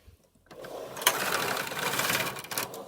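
A Silver Reed punchcard knitting machine carriage is pushed across a row, giving a steady mechanical whirring and clattering swish that starts abruptly and runs for a couple of seconds.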